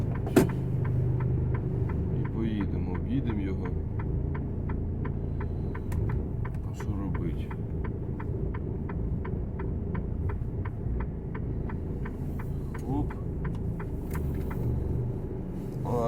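A truck's diesel engine idles with a steady low rumble and a regular ticking pulse as the truck starts off and reverses slowly on a haul between Zgorzelec and Środa Wielkopolska, the sound close and continuous throughout.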